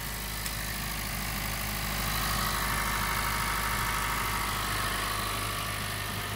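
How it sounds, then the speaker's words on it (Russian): A Honda Vezel engine idling after a bearing replacement, a steady, even hum with no knocks or irregular sounds, close and continuous throughout, with no one speaking. "Машинка завелась. Никаких посторонних звучков."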